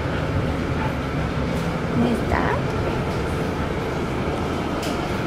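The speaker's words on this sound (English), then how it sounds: "We just got on the monorail type thing" Riding a monorail-style train in Pisa: a steady rumbling cabin drone with rolling rail noise, and a voice speaking briefly over it.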